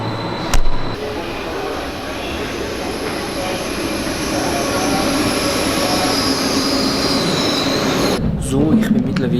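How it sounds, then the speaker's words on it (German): An S-Bahn train rides toward St. Gallen, heard from inside as a loud steady rumble with squealing wheels and a few sharp clunks near the start and end. "ich bin mittlerweile im Zug in der S-Bahn nach St. Gallen"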